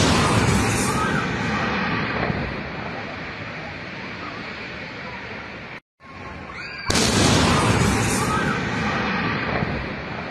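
Roaring fire and blast noise at a gas facility in Monterrey after a flash and explosion during material transfer, loud and continuous with a brief cut to silence midway before the roar resumes.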